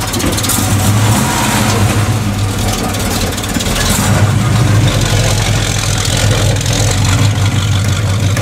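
A Chevrolet Nova's engine runs steadily and loud inside a garage, a continuous low rumble with rough idling texture and slight revving swells throughout.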